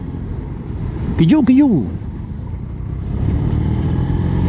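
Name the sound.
motorcycle with new Leonart Pilder exhaust passing a truck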